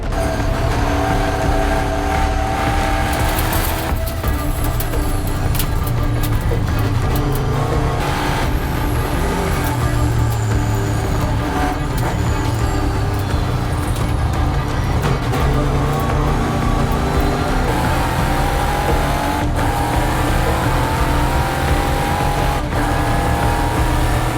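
Race car engines drone loudly and continuously through a race, pitch rising and falling as the cars accelerate and pass, with one car's engine running rough. No voices are heard.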